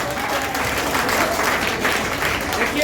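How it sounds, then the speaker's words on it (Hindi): A crowd at a coaching centre event honouring top district students claps steadily in sustained, dense applause that holds at a loud level throughout. "एक बार 2 बार ताली बजा दीजिए।"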